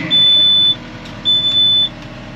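Two steady high-pitched electronic beeps, each lasting about half a second, from a Yanmar ViO55 mini excavator locking, heard close with a low engine hum underneath and no talking.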